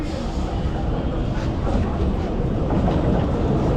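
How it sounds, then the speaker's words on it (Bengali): A commuter train pulls in at platform 2 of a station in Bengal, giving a heavy, continuous rumble with rhythmic wheel clatter that grows slightly louder, and indistinct voices sit beneath it. "2 নম্বরের ট্রেন ঢুকবে।"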